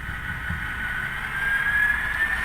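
A model locomotive's engine from a Blunami sound decoder throttles up, giving a steady droning rumble with a rising tone that holds constant and fairly loud, alone without talk.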